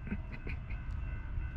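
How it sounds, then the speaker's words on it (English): A Norfolk Southern 11N auto rack freight train rolls past close by on track one in New Jersey, a loud continuous rumble of railcars with rhythmic wheel clatter and a faint high squeal, no talk. "This is the auto rack train. Norfolk Southern 11N."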